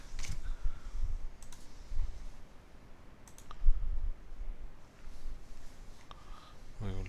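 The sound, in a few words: computer mouse click deleting a disk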